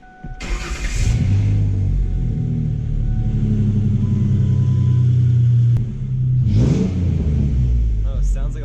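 Engine of a lifted Ford Ranger with a freshly welded exhaust starting up and revving, a loud steady rumble held for several seconds before easing off, with a voice heard near the end.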